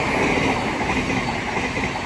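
A Class 700 electric train rolls through Sydenham station on the Brighton Main Line, giving a steady, close rumble of wheels and carriages with a faint high whine and no speech.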